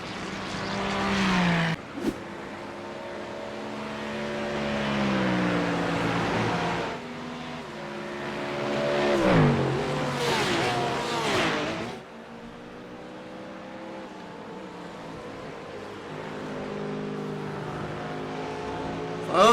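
GT3 race cars roar around the Red Bull Ring in a racing video game, their engines rising and falling in pitch as they accelerate, shift and pass, with several cars overlapping close by and continuing steadily throughout.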